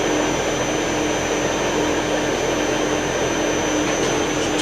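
A metal lathe runs with its feed reversed, giving a loud, steady whirring machine drone that holds unchanged for the whole few seconds, with no talking.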